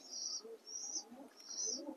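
Racing pigeons in a loft give three faint, evenly spaced calls, soft and somewhat distant against a quiet background.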